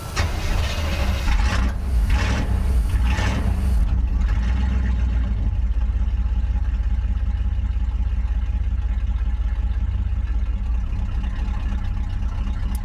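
A carbureted 1977 Chevy C20 Bonanza three-quarter-ton truck cranks briefly and fires, then settles into a steady, loud, close idle that rumbles on alone.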